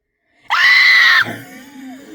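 A person lets out one loud, sustained scream lasting under a second, close and piercing, which breaks off abruptly and leaves a lingering tonal resonance in the room.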